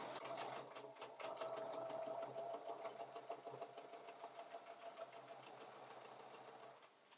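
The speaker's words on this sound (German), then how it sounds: "Und näht die Bodenecke mit 1 cm Nahtzugabe ab." A sewing machine stitches the bottom corner of a cork fabric frame bag with a 1 cm seam allowance, giving a close, steady whirring hum with a rapid stitch rhythm that eases off slightly near the end, with no voices.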